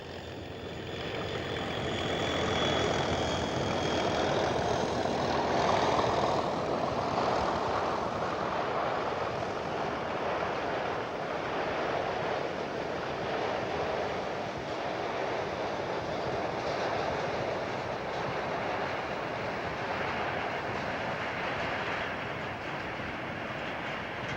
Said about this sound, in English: J27 65835 also returns home on the inland route